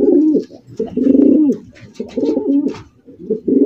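Pigeons coo as a male calls to a female, a loud, close series of deep, rolling coos repeated about four times with short gaps, no talk over them.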